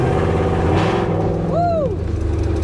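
Ford F100 pickup with a Coyote V8 swap drives past loudly, a rough close engine rumble with a brief rising and falling whine, while a person briefly exclaims.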